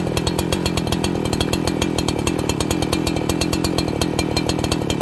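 A Farmertec 288XP chainsaw kit running on its first start, loud and close, with a rough, fast, steady engine buzz that holds throughout without talk.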